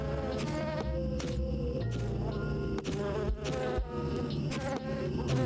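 Buzzing bees in the video game I Commissioned Some Bees, a layered droning hum with shifting pitched tones and periodic soft clicks, continuous and fairly loud, with no speech.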